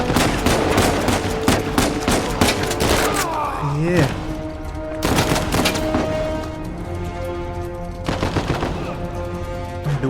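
Rapid bursts of gunfire from the video game Uncharted 4: A Thief's End, loud and repeated in clusters, with voices talking over the shooting.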